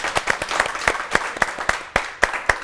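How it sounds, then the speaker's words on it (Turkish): A small group claps together, sharp irregular hand claps forming a short burst of applause with no talking. "Bence alkışlayalım anneler."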